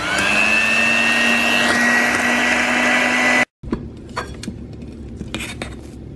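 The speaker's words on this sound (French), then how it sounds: "je monte les blancs d'œufs en neige" An electric mixer whips egg whites into stiff peaks for a pumpkin pie cream, a steady loud motor whine that shifts pitch midway, then cuts off abruptly, followed by light clinks of utensils and dishes.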